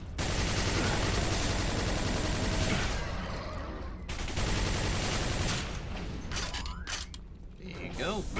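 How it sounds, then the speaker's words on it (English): A Quake hyperblaster fires in long, rapid, mechanical bursts, loud and close. The chattering volleys break off briefly and resume, over a constant game din. "I think it's called a hyperblast is what it is, but it works very similar to like a plasma gun"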